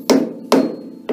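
Gentle hammer taps on a metal workpiece being trued up in a machine shop setup, three short sharp knocks spaced about half a second apart, close and clear with brief ringing decay.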